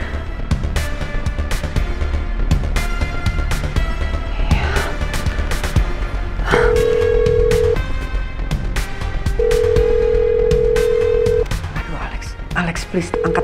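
A phone ringback tone repeats in long steady beeps, ringing on without being answered, over a busy background of music and clatter.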